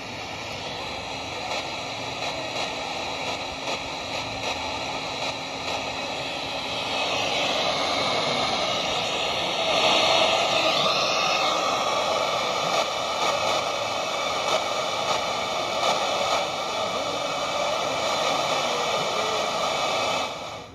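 A faint, hissy shortwave radio signal on a Philips Champion or XHDATA D-808 receiver, a song barely audible beneath steady static and a droning whine, continuous for the whole stretch.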